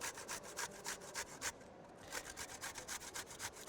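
Beets grated on a metal box grater: rapid, regular rasping strokes, about a dozen in quick rhythm, with a brief pause midway, close and clear with no talking.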